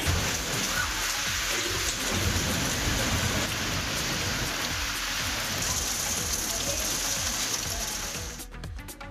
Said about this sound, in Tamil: பலத்த காற்று மற்றும் இடி மின்னலுடன் கனமழை